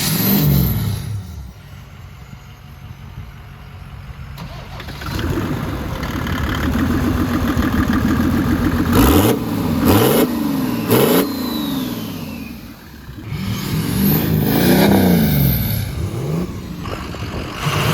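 A straight-piped Ford F350 with a 6.0-liter Power Stroke diesel idles with a loud, raw clatter outdoors, then revs hard several times, the exhaust roaring up and falling back to idle between blips.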